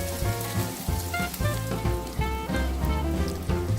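Chopped onion and green onion hit hot cooking oil and sesame oil in a pot, giving a steady close sizzle with crackling spatter throughout.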